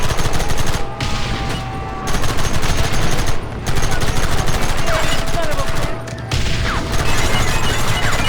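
Loud, rapid gunfire rattles through a Red Dead Redemption cutscene shootout, with sustained volleys broken by brief pauses and a low rumble underneath.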